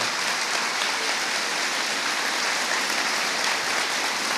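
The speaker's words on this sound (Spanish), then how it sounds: "Un aplauso para estos hermanos que nos acompañan en esta hermosa tarde" A church congregation gives sustained, even applause to welcome visiting brothers at an afternoon service, a dense rain-like patter of many hands that holds steady from start to end.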